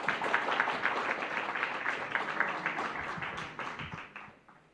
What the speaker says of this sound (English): Let's give Ya and Una another round of applause.